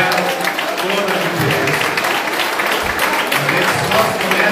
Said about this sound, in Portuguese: dar uma salva de palmas para vocês